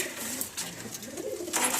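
A single pigeon coos in low, soft, rolling notes close by, with no talk over it.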